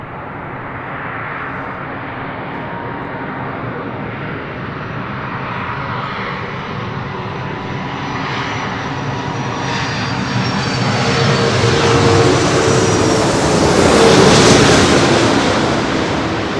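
An Airbus A330-200 airliner arrives at LAX, its jet engine roar loud and swelling as it passes close, peaking near the end with a rising whine.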